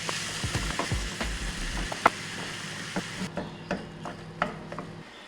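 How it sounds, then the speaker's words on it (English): Ground beef sizzles and crackles steadily in a hot oiled pan, with occasional stirring scrapes and small pops over a constant frying hiss. "pop your meat in there. Start making it nice and brown."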